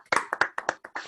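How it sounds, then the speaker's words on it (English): Virtual meetup attendee claps hands about seven times in an uneven rhythm, each clap crisp and close to the microphone, with no crowd behind it. "give our speaker a round of applause"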